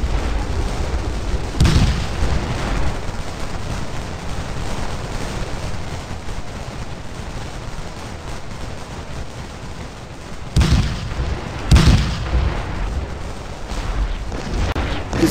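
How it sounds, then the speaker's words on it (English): Musket volleys and artillery in the Civil War strategy game Scourge of War: Gettysburg make a steady crackling din of distant gunfire, broken by a few heavier booms. "This firefight is going quite well, but as the regiments are so large, the firefight will continue for some time."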